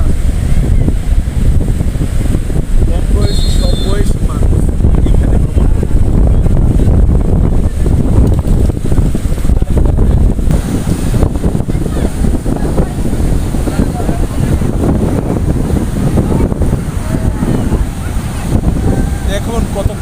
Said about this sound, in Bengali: সমুদ্রের উত্তাল তরঙ্গ আমাকে পাগল করে দিচ্ছে